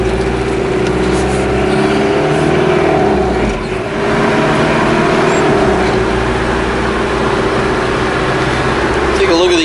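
A 1984 four-wheel-drive mini truck with a turbo diesel and a five-speed manual drives and turns through an intersection. Its steady, loud engine drone and road rumble run continuously from inside the cab.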